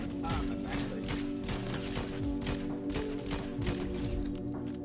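Continuous gunfire from Fortnite Chapter 4 players fighting each other, a steady stream of repeated shots at moderate distance layered over a constant hum of game sound, with occasional voice underneath.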